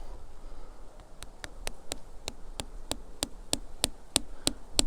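Sharp metallic taps of a hammer driving a tap spout into a maple tree at a steady, quickening pace, about fifteen blows, each ringing briefly over a faint buzzing background.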